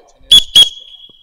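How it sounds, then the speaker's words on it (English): Two short, sharp blasts of a referee's whistle, loud and close, during an on-field officiating drill, followed by a faint lingering tone. "You hear whistles."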